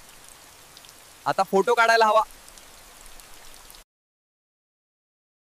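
Steady rain hisses softly in a village during the monsoon, a constant wash of noise beneath a man's brief spoken remark, before the sound cuts off abruptly.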